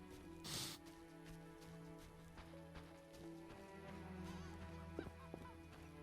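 Geese honk repeatedly in a Witcher game scene set in Vizima, the calls fairly faint over steady game ambience and music, with light hoof-like clip-clop sounds nearby.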